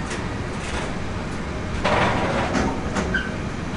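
A train moving through Aschaffenburg station toward the freight yard, a steady rumble that swells and grows louder midway, with faint clicks and a short high squeal near the end, heard alone at moderate distance.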